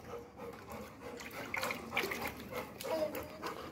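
A Rottweiler plays and splashes in water, with continuous close sloshing and lapping that surges louder in uneven bursts.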